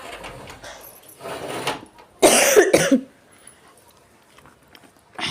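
A child coughs in a short harsh burst, close by, with quiet household sounds before and after.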